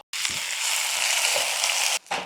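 Dried chilies, curry leaves and garlic fry in hot oil for tempering dosakaya pappu, a loud, close, continuous sizzle that cuts off briefly near the end.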